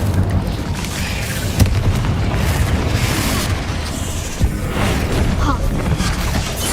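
In a video game, a fire spell blasts eggs, producing a dense roaring rumble with two sharp booming hits that stand out above the continuous noise.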